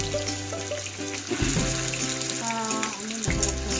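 Skinless chicken longganisa sizzles in hot oil with a steady crackling hiss, close up, while a low tonal hum shifts pitch in the background.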